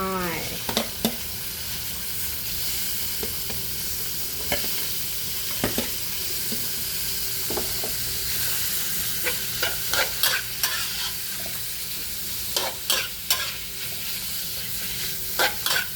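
Pork stir-fried with chili and shallots in a pan, a steady loud sizzle throughout with scattered scraping clinks of a utensil stirring, growing busier toward the end, no talking.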